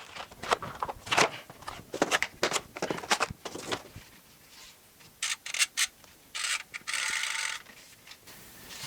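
A FLO G700 aero gravel bike rear wheel is pulled from its cardboard box packaging, producing close, irregular bursts of rustling, scraping and crinkling with short pauses between them.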